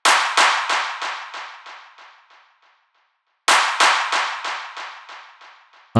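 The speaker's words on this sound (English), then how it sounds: "it's just two claps. This is the Agony Mini Clap 8." Two hand-clap hits from the Agony Mini Clap 8 sample pack, each trailed by a fast echo of about eight repeats that fade away, with a short gap between the two bursts and no talking.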